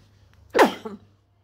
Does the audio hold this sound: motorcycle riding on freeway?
no